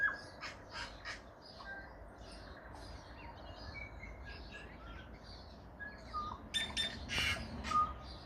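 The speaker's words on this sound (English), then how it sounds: "That's our native tui." Outdoor birdsong of a tui, New Zealand's native parrot-like bird, with varied calls: squawky notes, chirps and a couple of bright, ringing whistles over a steady background hiss, moderately distant.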